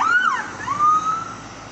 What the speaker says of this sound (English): He gave me the siren.